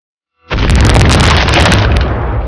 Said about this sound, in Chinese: 领地钱，直接炸了